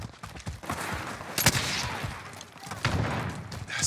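Gunfire in a fast team deathmatch shooter game, with scattered shots and a busy mix of crackling bursts, distant thuds and voices murmuring underneath.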